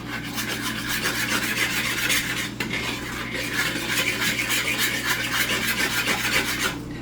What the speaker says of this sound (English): We want to give this a really good mix to make sure that everything's being incorporated into this.